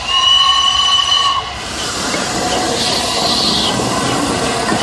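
A train pulls away as a sound effect in a radio drama: a loud steam-style whistle sounds for about a second and a half, then gives way to a steady rumbling, hissing roll of moving carriages.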